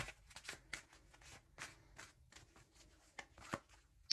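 Tarot cards shuffled and dealt by hand, a run of soft, quiet riffling flicks and slaps at an uneven pace, close by with no voice over them.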